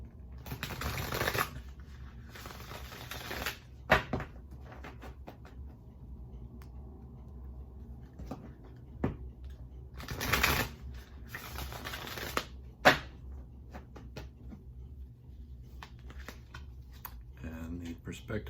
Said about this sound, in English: I'll go ahead and shuffle the deck here.